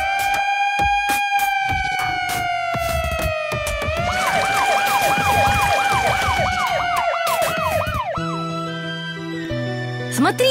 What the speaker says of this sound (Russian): Смотрите, это Блейз, пожарная машина!